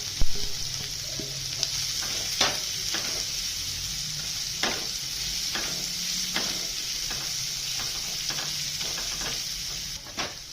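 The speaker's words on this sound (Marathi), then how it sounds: "आणि कांदा पण याच्यातच परतून घ्यायचा छान आहे।" Onion sautéing in a pan with green chilli thecha for a capsicum zunka, a constant sizzle broken by repeated sharp scrapes of a spatula stirring at uneven intervals.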